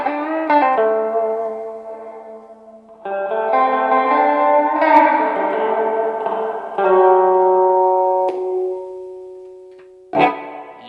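Electric guitar through a Bogner Alchemist head with hall reverb: sustained, clean-to-driven chords ring out one after another, each tail washing into a long spacious decay, ending with a sharp final strum.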